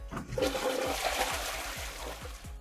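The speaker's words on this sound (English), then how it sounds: "now I'm just going to have it play a sound, the flushing sound" A toilet flush sound effect in the VR game Anyland rushes and gurgles briefly, loud and close, with swirling water draining away.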